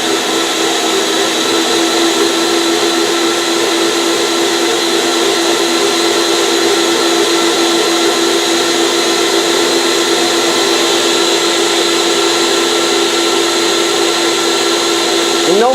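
A Maxi-Miser 3000 dual turbine paint sprayer, not yet fully warmed up, runs continuously with a steady loud whine and broad rushing hiss and no breaks throughout.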